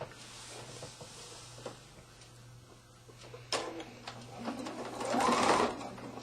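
A sewing machine sews binding onto a quilted wall hanging, whirring quietly and steadily up close, with a louder stretch near the end.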